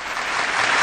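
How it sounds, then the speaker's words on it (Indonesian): A brief burst of applause at the closing session of a church family retreat, many hands clapping in a dense, even wash that swells slightly, close and without talk. "Tepuk tangan dulu."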